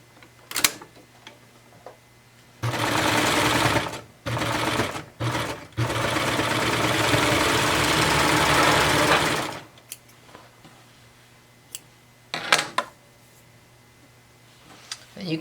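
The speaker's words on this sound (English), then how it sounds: "And now we're going to sew that seam at 1/4 of an inch." A sewing machine runs a quarter-inch seam through three layers of fabric for underpants, a loud steady whir lasting several seconds with short bursts before it, then scattered quieter clicks of handling afterward.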